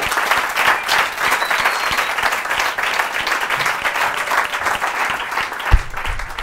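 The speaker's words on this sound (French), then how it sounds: "Applaudissez Karl également" A studio audience on a French TV show applauds a guest named Karl, dense clapping that stays loud and steady for several seconds, with a faint voice under it.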